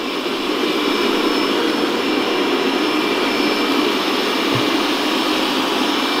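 A Dreame X50 Ultra robot vacuum cleaner with 20,000 Pa of suction runs close by. It gives off a loud, steady, jet-like roaring whine that holds constant throughout, with no talking.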